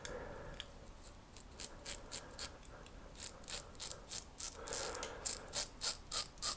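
A Ming Shi 3000s adjustable twist-to-open safety razor being turned, giving a run of small, close ratcheting clicks that grow more regular and a little louder toward the end, with no talk.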